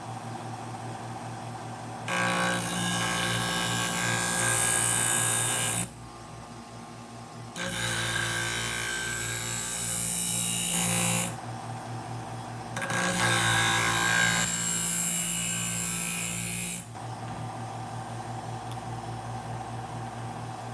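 A knife being ground on a power sharpener, with three long whining grinding passes that each last a few seconds, separated by quieter motor hum, close and fairly loud, no talk.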